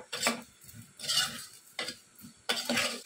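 A spoon stirs turmeric into gongura mutton curry in a pot, four short scraping strokes with brief pauses between them, close and fairly quiet, with no talk.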